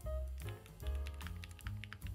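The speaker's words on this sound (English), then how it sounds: "now let's see what it's like to type on this board" Typing on an Angry Miao AM Compact Touch mechanical keyboard, a steady run of close, crisp keystrokes with a deeper bouncy thock, continuous with no talking.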